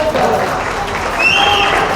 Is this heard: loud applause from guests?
yes